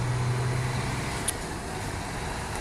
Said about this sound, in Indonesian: Oke nih, bergerak berjalan lanjut ke tujuannya, bus Makmur yang seat 21.